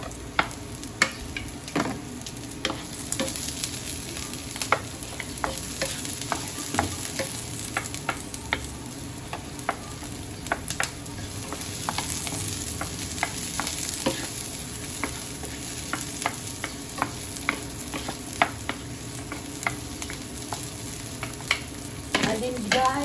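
Onion frying in a pan for Filipino ampalaya with tofu, steady close sizzling with repeated scraping stirs of a utensil throughout, no talking.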